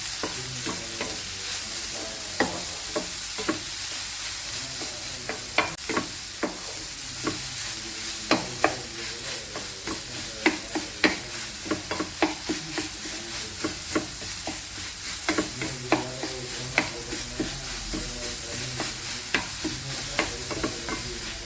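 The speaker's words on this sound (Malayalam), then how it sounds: "നമുക്കിതും കൊടുത്ത് നന്നായിട്ടൊന്ന് മിക്സ് ചെയ്യാം" Grated coconut is stirred into a ripe plantain banana bonda mixture in a bowl, with steady scraping and clicking strokes repeating at close range over a low background hum.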